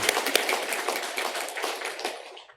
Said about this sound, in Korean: 우리 다시 한번 두 분 힘차게 박수로 환영하겠습니다.